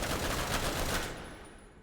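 A Bulwark weapon in a video game fires a dense, loud burst of rapid gunfire that holds steady and then tails off and fades away.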